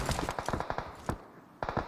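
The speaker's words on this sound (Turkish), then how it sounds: "Uzaktan bir silah sesi geliyor" Gunfire in PUBG Mobile: rapid bursts of automatic shots, a quick string of cracks, a brief pause, then another short burst, sounding fairly distant.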